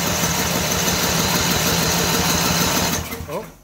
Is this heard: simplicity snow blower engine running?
yes